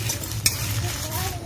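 Cumin and chilli fry in a pan, giving a soft continuous sizzle with one brief sharp scrape or clink of a utensil.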